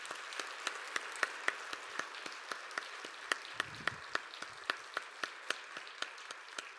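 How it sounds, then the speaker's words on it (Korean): A church congregation claps together after a Sunday service farewell for an associate pastor, a steady rhythmic applause of evenly spaced, fairly sharp hand claps sustained throughout, with a faint low murmur partway through. "그런 마음으로 큰 박수 하시겠습니다."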